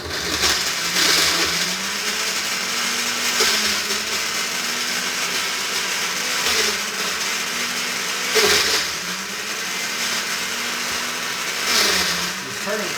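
A kitchen blender whirs loudly while making a smoothie, with its motor pitch rising and falling in surges and brief louder bursts.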